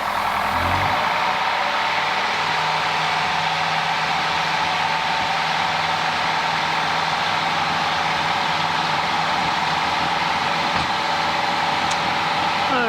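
A light aircraft engine runs at high, steady power during the takeoff roll on a departure from Barton, a loud continuous drone with a constant tone filling the cabin throughout.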